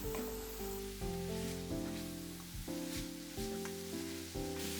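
Seasonings and potato filling sizzle in a reheated pan, a steady close hiss of frying with a sustained tone running beneath it.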